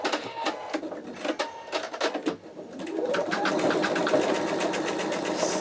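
An embroidery machine stitches a close zigzag along the edge of an in-the-hoop wallet, first as a few separate taps and bursts, then settling into a steady, rapid needle chatter that runs on to the end.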